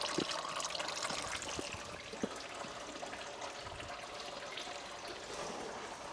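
Coolant drains from a Toyota Celica engine in a steady, faint trickle and patter of liquid, continuous and close, with no one speaking.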